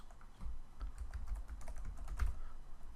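Clicks from a computer keyboard and mouse come close and steady while a commercial insurance form is filled in, with no talking.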